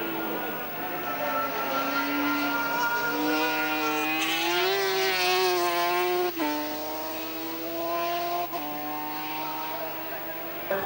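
Racing sidecar motorcycles at the 1988 FIM Sidecar World Championship scream past with a loud, rising and falling engine whine and sharp gear changes. A commentator talks over it.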